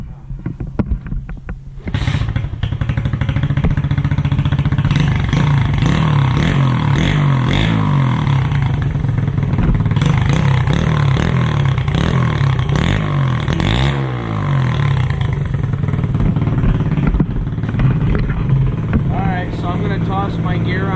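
A brand-new pit bike engine revs loudly and steadily in the snow, a droning motor note rising and falling for about twenty seconds after a short quiet start, with clattering mechanical noise alongside.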